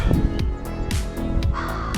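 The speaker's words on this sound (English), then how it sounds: "That's really cool, the crow there." A crow caws repeatedly and loudly nearby on a coastal hike by the Bay of Fundy, a run of harsh calls in quick rhythmic succession.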